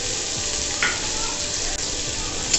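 Chopped onion and chili sizzle in a pan with softened capsicum for a sweet corn dish. The hiss is steady and close, with a few light scrapes of stirring.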